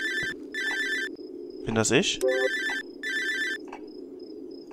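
A mobile phone rings in the horror game Cry of Fear, with repeated electronic ringtone bursts in a steady on-off pattern, and someone speaks briefly between the rings.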